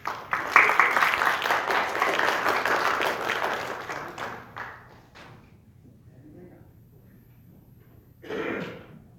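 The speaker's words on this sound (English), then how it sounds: "A round of applause for our competitors," An audience at a district spelling bee applauds the competitors, with dense clapping for about four seconds that thins to a few last claps, then quiet and a brief cough or throat clearing.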